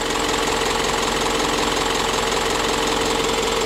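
Steady running of a 5.2-liter 4-cylinder diesel in a 2019 Isuzu NRR N-Series truck with a 16 ft reefer body, a continuous even idle clatter heard close and alone without pauses.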